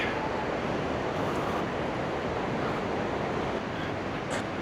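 Rough sea surf on a pebble beach at Seaham, waves washing and splashing over the stones in a continuous roar, mixed with gusting wind noise on the microphone, loud and close with no pause.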